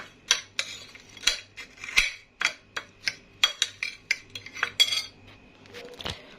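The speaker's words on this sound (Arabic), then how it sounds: "هقلب كل المقادير جافه كده مع بعض" A spoon stirs dry milk powder and grated coconut in a bowl, clinking against the sides in a loose, steady rhythm, close and clear.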